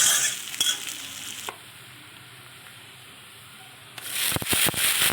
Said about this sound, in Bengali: বেশ কুচনো একটা বড় পেঁয়াজ তেলের ওপরে একটু নেড়ে নিচ্ছি